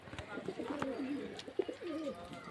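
Pigeons of several breeds coo repeatedly at a pigeon market in Beldanga, Murshidabad, soft overlapping throaty calls close by, with faint background voices.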